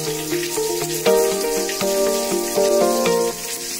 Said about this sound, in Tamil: தாளிப்புக்காக கொஞ்சம் எண்ணெய், ஜீரகம், கடுகு, கருவேப்பிலை, பெருங்காயத்தை சேர்த்து தாளித்து கொட்டிடுங்க